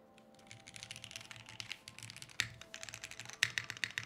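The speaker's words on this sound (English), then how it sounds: "I'll do another typing test for you guys" A Moontower keyboard fitted with 65 durometer O-rings is typed on in a steady stream of soft, muted keystrokes, close and quiet, with a few louder key thumps.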